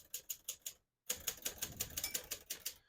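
Crisp mechanical keystrokes from a 1979 Hermes 3000 manual portable typewriter, a quick run of strikes, a short pause, then a longer steady burst of typing, close and clear.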